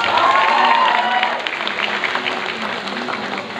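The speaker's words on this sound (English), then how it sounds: "Please give a big round of applause." Audience applauding at a university freshers award crowning ceremony, a burst of clapping that gradually fades, with a voice speaking over it and faint crowd cheering.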